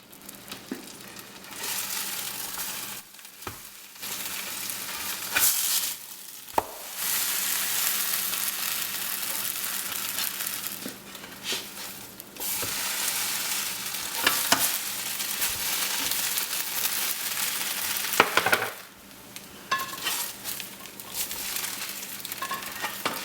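French toast fries in a hot pan with a steady, close sizzle and crackle, broken now and then by brief quieter gaps and faint scrapes, with no one speaking.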